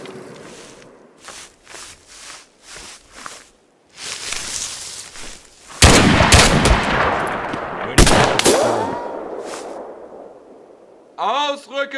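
Mud and Blood video game battle with bursts of rifle and machine-gun fire, some sharp single shots and some heavy sustained volleys, loud and close, with game voices shouting in between.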